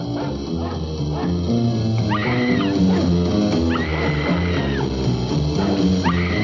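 Several dogs barking, yipping and whimpering in an old film, loud and continuous over a busy music score, with rising whines breaking through at intervals.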